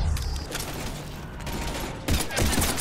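Rapid gunfire in Mass Effect 3: a dense, continuous burst of shots with heavy battle noise, loud and close, swelling again toward the end.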